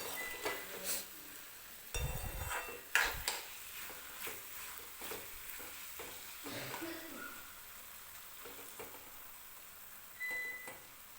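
A spoon stirs masoor dal and onion in a pan, with intermittent scrapes and metallic clinks over a faint, low sizzle, the clip quieting toward the end.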